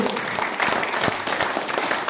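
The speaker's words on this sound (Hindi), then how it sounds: "एक बार जोरदार तालियां होनी चाहिए।" A crowd at a wellness event in India gives a short burst of hearty applause, a thick, continuous patter of many clapping hands filling the room.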